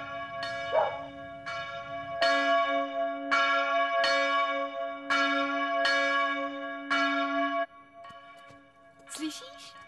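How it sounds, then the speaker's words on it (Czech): A church bell tolls in a steady series of loud, resonant strikes with a lingering hum, preceded by brief murmuring and ending with a faint voice. "Slyšíš? Co? No zvon"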